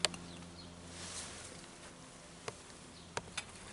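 Honeybees buzzing as a swarm while a colony is moved into a chalet-style hive for winter, a steady low drone close by with a few sharp clicks and knocks on top.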